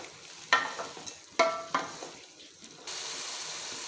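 Fried okra sizzles in a pan as it is stirred into a spiced potato-okra dish, with a few sharp scraping stirs over a steady frying hiss that grows louder near the end.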